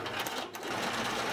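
A 6 mm bit widens a pilot hole with a drill, a continuous buzzing motor whir with rapid rattling texture, steady and close, with a brief dip near the middle.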